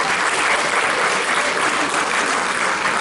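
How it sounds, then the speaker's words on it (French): A live audience at a hypnosis show breaks into steady, dense applause, loud and close, continuing unbroken for the whole stretch with no voices over it. "On peut l'applaudir aussi pour l'encourager."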